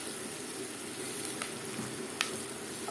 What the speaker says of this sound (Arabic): شوح كده فص الثوم بس ريحه الثوم يطلع